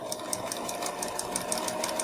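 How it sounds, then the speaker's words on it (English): A sewing machine runs a zigzag stitch close to a fabric edge, its fast, steady rhythmic whir continuing without a break from start to finish at moderate volume. "I'm just sewing, still had my zigzag, move it closer to the edge"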